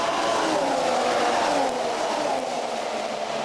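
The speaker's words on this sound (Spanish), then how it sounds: "sonido de los motores, muy criticado." Formula 1 cars at the 2014 Malaysia Grand Prix, a steady loud engine roar with a gliding pitch as cars pass, fairly near and continuous with no talk.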